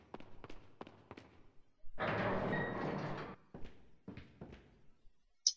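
A door in Resident Evil 4 slides open with a sustained grinding rumble of about a second and a half, set between scattered thuds of footsteps and clunks.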